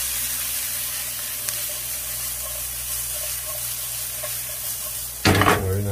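Mushrooms, garlic and onions sizzle in a frying pan with a steady, close hiss and occasional faint pops, ending in a louder burst of sizzling as more goes into the pan.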